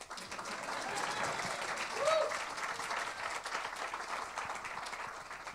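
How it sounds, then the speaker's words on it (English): An audience applauds at an LA ska show, sustained clapping from a crowd heard at a steady level for several seconds, with a voice faintly audible in the background. "Continue clapping, man."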